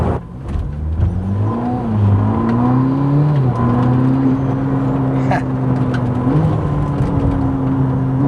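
Ferrari 849 Testarossa hybrid on a wet road, its engine catching and droning loudly as it accelerates, the pitch climbing in steady steps through the gears with one brief shift blip.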